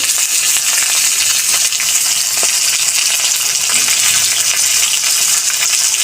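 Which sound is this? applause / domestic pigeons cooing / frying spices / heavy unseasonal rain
frying spices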